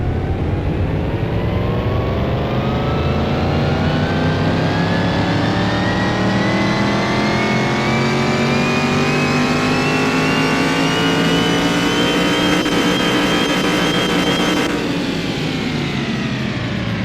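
Engine of a car in Car Mechanic Simulator 2021 revving hard and steadily climbing in pitch for about fifteen seconds, loud and close, then easing off near the end, with no talking.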